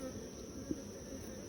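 Honey bees buzz steadily inside a crowded hive that may hold multiple queens, a low continuous hum with one brief bump partway through and no talking.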